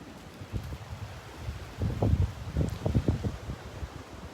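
Strong wind gusts of 20 to 30 mph sweep through palm fronds on a Gulf beach at Delnor-Wiggins, giving a rough rustling roar that swells in bursts in the second half, with microphone buffeting and no talk.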